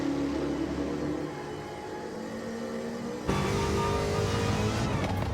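Roadster Shop Road Rage Camaro race car on a racing circuit, its engine a loud, unbroken drone heard from on board that holds steady and then jumps to a harsher, higher-pitched roar partway through.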